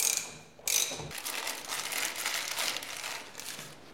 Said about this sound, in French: Pour visser à fond, nous utilisons une clé universelle pour embout coupleur.